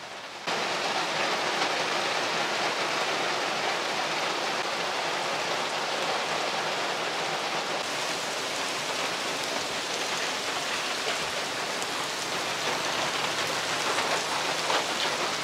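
Rain falls steadily during a motorcycle trip in Thailand, a broad, even hiss of drops that holds at one level throughout, with no talk.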